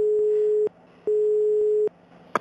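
Telephone busy signal after a call is hung up on a reception desk line: two long, steady tones separated by short silences, loud and close, ending with a brief click.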